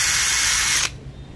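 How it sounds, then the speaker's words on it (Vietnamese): A Makita XPH12 brushless cordless hammer drill in wall-drilling mode runs with a loud, close, steady high whine for under a second, then cuts off abruptly, leaving near-silence. "Chức năng khoan tường thì nó cũng chỉ thực hiện bởi hai chức năng thôi, hai tốc thôi, tốc 1 và tốc 2."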